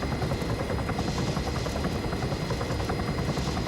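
Helicopter flying in the video game ArmA 3, a loud, continuous rotor chop with a dense engine roar, steady and close throughout with no voices.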